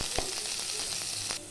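Chopped onions frying in hot oil in a kadai, a steady close sizzle with a few soft stirring knocks and clinks, no talking.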